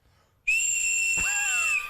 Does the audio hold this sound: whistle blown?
yes